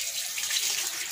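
Water runs steadily from a tap while a makeup brush is rinsed, giving a continuous hissing rush close by with no talking.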